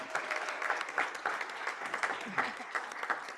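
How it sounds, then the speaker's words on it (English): An audience at a school board meeting applauds steadily for a high school jazz band, dense continuous clapping with no speech over it for the whole stretch. "a big round of applause as well."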